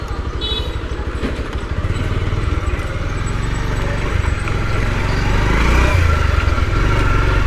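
Motorcycle engine running steadily on a city street in Chattogram, Halisahar route, a continuous near rumble that grows slightly louder toward the end, with faint traffic noise around it.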